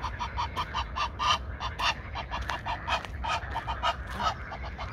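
Geese honk repeatedly and close by at a campsite in Nuremberg, a rapid series of nasal calls over a low background rumble.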